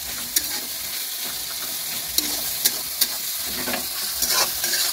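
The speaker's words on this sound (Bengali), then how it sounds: "পেঁয়াজ কুচিটা ভালো করে লাল লাল করে ভেজে নেব।" Four large chopped onions fry in a pan for a duck curry, giving a steady broadband sizzle with a few sharp clicks and scrapes of stirring scattered throughout, close and fairly loud with no talking.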